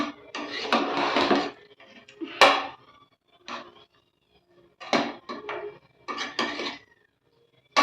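A spoon scrapes and clatters against a pot while coconut milk rice is mixed, with several separate bursts of close metallic stirring and short pauses between them, no voices.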